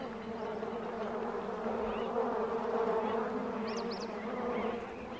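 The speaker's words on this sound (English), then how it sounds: "She tries a pit, but finds it full of bees." A dense, steady buzz of many bees swarming around a pit in hot weather, continuous and fairly close, alone without voices.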